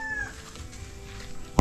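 A chicken clucks on a farm by a fish pond, a short rising-and-falling call at the start, then quiet farmyard background ending in a sudden loud burst.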